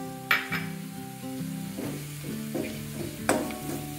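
Garlic paste and black masala fry in a pan for chana masala usal, with a continuous sizzle and a few sharp clinks and scrapes of a spoon against the pan, close and alone.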